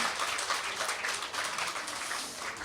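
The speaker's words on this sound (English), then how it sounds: "Give him a huge round of applause." Quiet, steady applause from an audience at a book launch hosted by a Greek women's club, many hands clapping evenly without talk for a few seconds.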